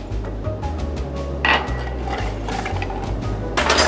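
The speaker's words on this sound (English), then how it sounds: "Kentucky bourbon. Ice. Here we go. Stir." Kentucky bourbon is stirred over ice in a glass, with close clinks and clatters of ice and spoon against the glass and sharper bursts now and then.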